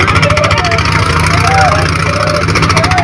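Two boat engines run steadily and close by on the Jamuna river as men haul up boats sunk in a storm. The loud, even mid-pitched drone continues without a break for the whole stretch.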